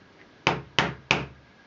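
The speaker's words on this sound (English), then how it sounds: "I need to hammer a little bit." Three sharp, evenly spaced hammer taps driving a peg into a wooden knitting loom, close and crisp, each ringing briefly before fading into quiet.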